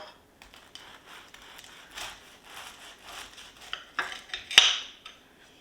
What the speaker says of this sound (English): Let's cut into this one the same.